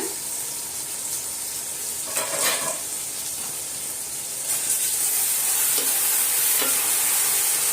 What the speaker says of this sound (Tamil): தக்காளியை நல்லா வதக்கி விட்டுக்கலாம் பார்ப்போம் வதங்கிடுச்சான்னு